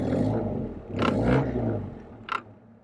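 An Austin A90 Atlantic's 2660cc engine idles and revs with a steady low rumble, swelling briefly midway, with a short rattle near the end.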